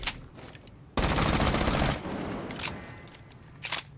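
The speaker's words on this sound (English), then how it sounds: "That's what the Roni looks like without any recoil control" A P10 RONI gun fires in Rainbow Six Siege: a loud burst of rapid automatic fire lasting about a second, then echoing room tone with fainter clicks and scattered shots, and a short final burst near the end.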